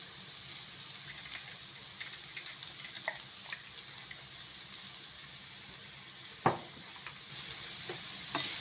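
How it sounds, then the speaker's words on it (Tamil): Grated coconut is stirred into a carrot stir-fry in a pan, giving soft spatula scrapes, an occasional clack against the pan and a faint background sizzle, quiet and close with no voices. "தேங்காய் துருவல் சேர்த்து நல்லா கலந்து விட்டுட்டு"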